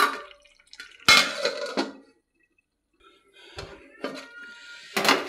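A metal lid set onto a cooking pot of simmering ridge gourd curry in a home kitchen, giving a sharp clank followed by a few lighter clinks and rattles, with quiet pauses between.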